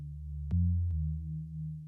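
A dry, plain synthesized sine-wave tone made in Serum holds a low pitch, briefly stepping up with two sharp clicks at the changes, then settling back; clean and unprocessed, with no effects.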